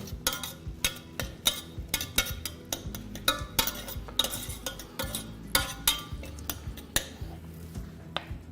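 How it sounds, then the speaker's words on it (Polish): Dense crackling and popping from hot oil spattering in a pan, steady and close throughout, with no voices. "Pachnie już ładnie, ładnie już skwierczy."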